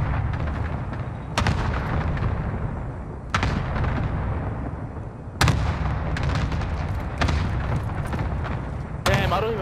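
A called-in artillery strike in a video game pounds away as heavy, booming impacts land every couple of seconds over a constant low rumble, with voices talking throughout.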